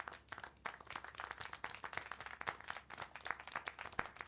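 Applause and clapping in the video game Syberia: The World Before, a dense, steady patter of many hands at moderate level, continuous with brief sharper claps throughout.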